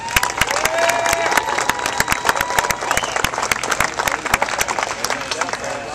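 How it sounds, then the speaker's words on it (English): At the 2011 Calaveras County Fair Jumping Frog Jubilee, an outdoor crowd bursts into sharp clapping and cheering for the frog jump winners, loud and sustained, with scattered shouts and chatter mixed in. "a big round of applause for all of our winners"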